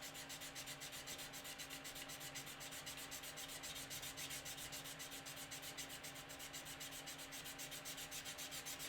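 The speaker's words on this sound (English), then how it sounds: "so just sanding in" A part from a Kitty Hawk 1/35 AH-6 Little Bird model kit being sanded by hand, a quiet, evenly rhythmic rasping of fast back-and-forth strokes, close up with no talk.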